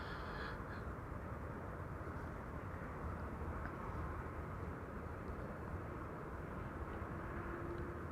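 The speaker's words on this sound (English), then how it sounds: "2 Embraer 190s coming to both runways" An Embraer 190 airliner lands at Amsterdam Schiphol, giving a faint, steady, distant jet roar that runs throughout, with a few crow caws near the start.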